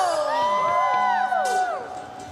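A church congregation shouts and whoops in praise during a worship service, a burst of overlapping voices that rises together and then fades within a couple of seconds.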